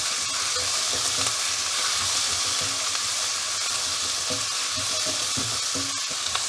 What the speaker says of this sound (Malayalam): ഇപ്പോൾ 1 മിനിറ്റ് ഞാൻ ഇളക്കിയിട്ടുണ്ട്